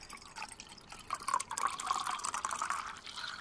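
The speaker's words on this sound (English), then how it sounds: "Now we're gonna do 1/2 cup of water." Half a cup of water trickles and splashes into a homemade castile soap mixture, a soft, close pour that builds over a few seconds with a gurgling rise in pitch.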